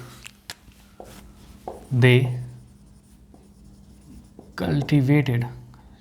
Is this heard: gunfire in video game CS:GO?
no